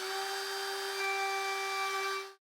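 A router fitted with a small round-over bit riding on a top bearing shapes the edges of wooden drawers, its steady high-pitched whine holding at one level for about two seconds before it cuts off abruptly.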